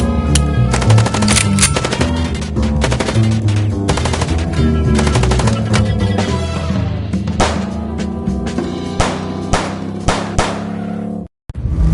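Sustained machine-gun fire in the video game Chicken Police, loud repeated bursts rattling for several seconds over a music backdrop, then stopping abruptly near the end.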